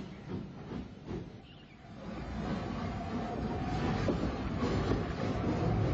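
Former South Eastern and Chatham P-Class 0-6-0 tank locomotive No. 27 shunts at Folkestone harbour, a moderately distant rumble of wheels and working engine, with a broad steam hiss swelling after the first couple of seconds and holding steady.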